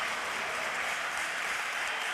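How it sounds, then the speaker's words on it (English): A boxing crowd applauds after a fight, a steady, dense wash of clapping from many hands, fairly distant and even throughout with no voice on top. "The crowd's giving him a great round of applause here."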